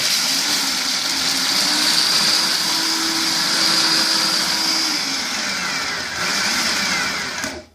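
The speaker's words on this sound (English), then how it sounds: "So I'm going to put these into my food processor because you want to pulse them up, pulverize them a bit." A food processor pulses a batch of nuts for cookie dough, a loud continuous whirring motor with a gritty grinding texture that holds steady for several seconds, dips briefly, then stops abruptly near the end.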